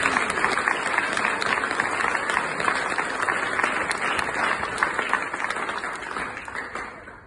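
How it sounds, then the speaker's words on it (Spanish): Guests at a church wedding ceremony applaud the couple, a steady wash of clapping from a crowd held evenly across several seconds at moderate level, with no voices standing out. "Un aplauso,"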